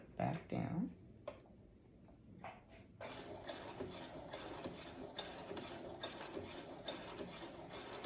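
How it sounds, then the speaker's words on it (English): A Brother sewing machine stitches steadily, its fast needle clatter running continuously at close range after some brief handling noises and low voice sounds at the start. "just kind of listen to your sewing machine"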